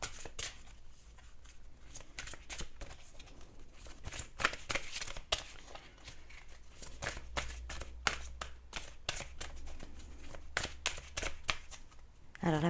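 Oracle cards are shuffled over and over in a quiet room, giving a steady run of soft riffling flicks and slaps close by, with a voice speaking briefly now and then.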